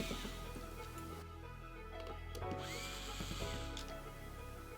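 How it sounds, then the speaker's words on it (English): A Torx 20 screwdriver backs out cover screws on an ODE 3 IP66 frame size 1 drive, giving close, quiet whirring bursts with small ticks and clicks between turns. "Using a Torx 20 screwdriver, remove the 4 cover screws."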